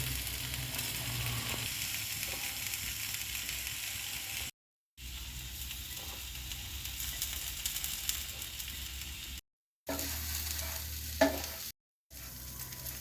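Masala frying in oil over a low flame, a steady soft sizzle with occasional stirring scrapes, continuous apart from a few brief cuts.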